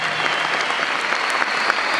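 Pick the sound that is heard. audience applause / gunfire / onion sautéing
audience applause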